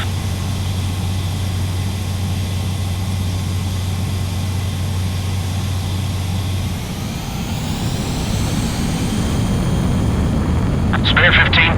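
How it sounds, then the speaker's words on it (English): A base commander's transport aircraft lifts off in Ace Combat 7, a steady broad jet roar that shifts in tone partway through as it climbs away, with voices talking over it. "The base commander's transport craft has taken off"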